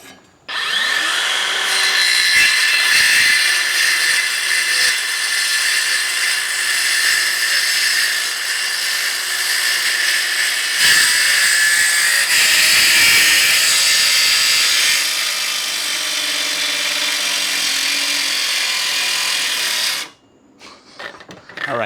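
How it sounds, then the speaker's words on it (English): A DeWalt 936 trim saw cuts through a wood board for an Adirondack chair build, a loud continuous whining, rasping buzz that runs steadily for about twenty seconds before stopping abruptly. "We'll continue to cut with this, the DeWalt 936 trim saw."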